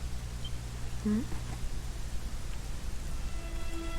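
Rain falls in Dragon Quest XI S as a steady hiss with low rumble underneath, game music tones and a voice surfacing briefly over it.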